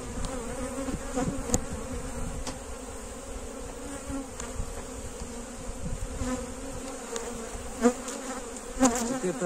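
Steady, dense buzzing of many honeybees close up at an open hive, a continuous hum with occasional louder passes of single bees.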